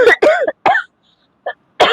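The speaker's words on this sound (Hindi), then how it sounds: "मुझे खांसी आ रहा है।" A few sharp coughs in quick bursts, close and loud, separated by short silences, then one more cough at the end.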